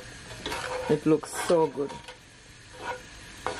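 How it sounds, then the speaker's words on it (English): Fried rice being stirred and mixed in a pan with seasoning, giving a few scraping, sizzling strokes in short bursts, close by, with a person speaking briefly in between. "Just gonna mix it all in."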